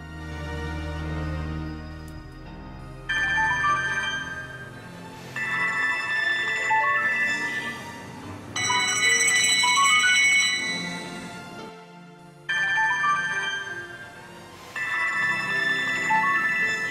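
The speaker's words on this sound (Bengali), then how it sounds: "ফোনটা ধরি" A telephone rings with a melodic electronic ringtone. It comes in repeated bright bursts with short gaps between them, sounding loud and close in a quiet indoor room.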